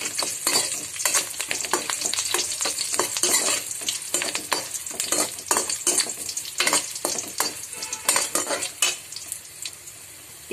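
Curry leaves and dried red chillies frying in oil for an old-style dal rasam: loud crackling sizzle broken by repeated clatter of a spoon stirring against the pan, easing off near the end.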